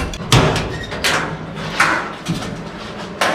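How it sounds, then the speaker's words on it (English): Metal door fabrication work in a workshop, with a handful of sharp clanks and thuds from handling the door, spaced irregularly and fairly loud against a background hiss. "open the door"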